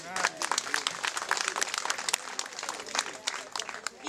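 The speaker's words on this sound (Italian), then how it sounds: "Un grande applauso." Scattered, fairly faint applause from an audience at an end-of-year academic event, with individual claps audible as the clapping rises and falls unevenly.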